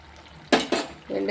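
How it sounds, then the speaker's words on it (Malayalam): A spoon stirs sardine peera, a Kerala grated-coconut fish dish with curry leaves and coconut oil, in a pan, making two or three close metallic clinks and scrapes against the pan in quick succession. "ഇത് സ്പൂണ് വെച്ച് ഇങ്ങനെ ഒന്ന് ഇളക്കി കൊടുത്തേച്ചാൽ മതി."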